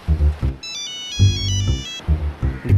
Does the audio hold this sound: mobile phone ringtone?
yes